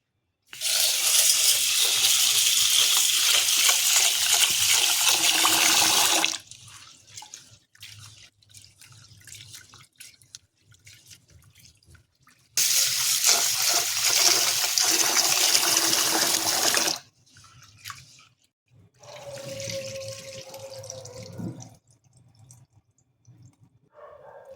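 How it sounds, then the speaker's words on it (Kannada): Water pours and splashes while toor dal and rice are washed twice by hand in a vessel, two long loud bursts of running water separated by quieter sloshing and dripping, close by. "2 ಸಲ ತೊಳ್ಕೊಳ್ಳೋಣ."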